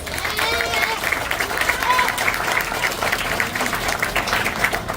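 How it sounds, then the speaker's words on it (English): An outdoor crowd at a school steel topping-off ceremony applauds committee members, a dense, even wash of clapping mixed with crowd murmur and chatter throughout. "Let's give them a round of applause."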